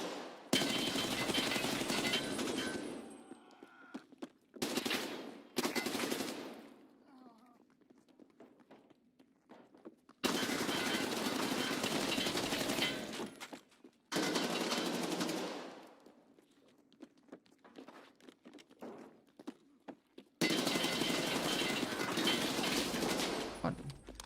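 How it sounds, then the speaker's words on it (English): A light machine gun rips off several long, loud automatic bursts in Escape From Tarkov, each broken by short quiet gaps, with no talking heard over it. "I'm leveling up my light machine gun"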